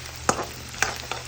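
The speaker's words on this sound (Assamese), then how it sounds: "এইখিনি মই ভালদৰে ভাজি আছোঁ এতিয়া" Onions frying in a pan for home-made egg chow, a steady soft sizzle broken by three or four sharp stirring scrapes, close and alone with no talk.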